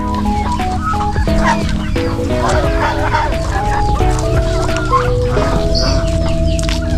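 Turkeys and chickens in a backyard poultry pen keep up dense overlapping clucking and gobbling calls, close and continuous, with a busy mix of voices throughout.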